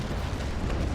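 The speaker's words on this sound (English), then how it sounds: "And I'm waiting just for my main cannons to reload and fire." Main cannons on a sailing warship fire a volley in the Naval Action game, a loud rumbling broadside boom that fills the whole moment without pause.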